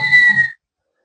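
A voice imitates the whistle of an incoming bomb: one short, steady whistled tone of about half a second, fairly loud and close, then silence.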